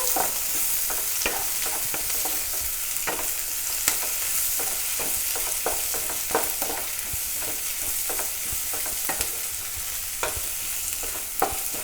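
Vegetables sizzle steadily in a hot pan for noodles, with a constant frying hiss broken by frequent scrapes and clicks of stirring, close and without talk.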